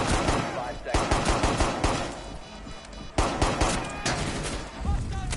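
Rapid bursts of gunfire in a first-person shooter game, loud repeated volleys with short pauses between them, and faint voices under the shots.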